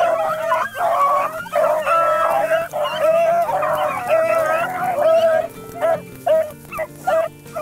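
Small hunting dogs baying on a rabbit trail outdoors, a run of loud, overlapping yips and barks that turn into separate, spaced barks toward the end, with no talking.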